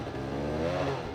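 Dirt bike engine, Yamaha WR250R or similar, revving briefly during off-road training, a close, loud buzzing drone with rising harmonics and no voices.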